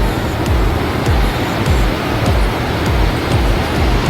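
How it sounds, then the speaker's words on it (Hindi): Rushing water of Lodh Waterfall at Netarhat, Jharkhand, a loud, steady roar of falling water heard close by with no voices. "ये रहा लोध वाटरफॉल, नेतरहाट का सबसे हाईएस्ट वाटरफॉल।"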